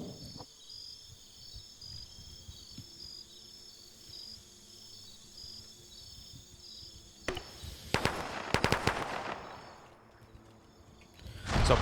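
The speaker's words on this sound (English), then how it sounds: "He's blind firing right now because that smoke is too thick, but he's hoping he can get lucky." Rifle fire in the Arma military shooter as a player blind-fires through thick smoke: a quick burst of sharp shots cracks out near the end, over a steady backdrop of chirping insect ambience.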